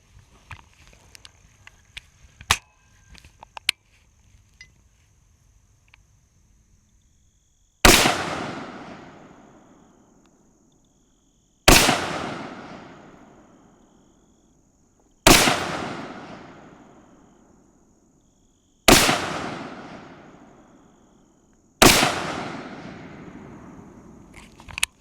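Five sharp, loud gunshots fired downrange from a gun fitted with a weapon-mounted flashlight, spaced about three to four seconds apart, each with a long decaying echo, after a few quieter clicks and handling noises.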